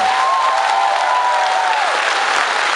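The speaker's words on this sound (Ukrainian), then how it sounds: "Оплески, люди, підтримайте." Crowd applause fills a band concert in Zvenigorodka, a dense, steady wash of clapping at close range with a sustained tonal note drifting over it before fading.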